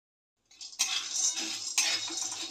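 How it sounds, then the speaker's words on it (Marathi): Dry soybeans rattle and scrape in a hot pan as a spoon stirs them, starting after a short silence with two sharper clinks amid continuous close metallic scraping. "आधी सोयाबीन भाजून घ्यायचं आहे."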